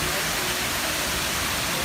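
Rushing water from a man-made waterfall on temple grounds, with rain falling, forms a steady, dense broadband wash that holds at an even level throughout.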